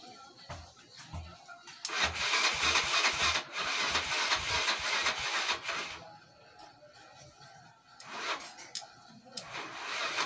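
Yamaha Mio Sporty scooter with a freshly stocked-up engine and a low battery, cranking in repeated bursts and catching into short rough idles with pauses between attempts, close by.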